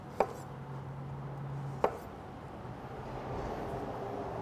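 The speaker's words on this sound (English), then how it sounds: "I'm just gonna cut my uh, cucumber into about two inch sections" Two sharp knife chops on a cutting board, about a second and a half apart, cut a cucumber into sections against a quiet low hum.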